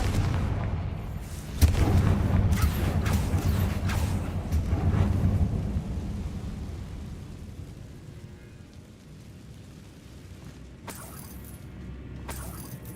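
A Confringo blasting spell in Hogwarts Legacy goes off with a loud booming burst, followed by rumbling debris and crackling that fade into quieter ambience, with a couple of sharp hits near the end.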